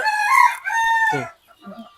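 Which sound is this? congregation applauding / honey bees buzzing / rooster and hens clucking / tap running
rooster and hens clucking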